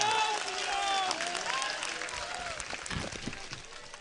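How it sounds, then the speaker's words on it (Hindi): An audience at a religious gathering breaks into applause, a dense patter of clapping that grows in the second half while whistling tones drift through the earlier part. "जोरदार तालियां बजाओ भैया"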